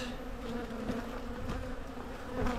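Steady, dense buzzing of many honeybees around an open hive during an early April inspection, close and continuous, with a low hum holding throughout and no voices.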